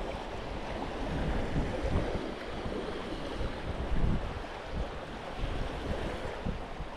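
Ocean waves washing and surging in a steady broadband roar, with swells rising and falling every second or two, close and fairly loud, no talking.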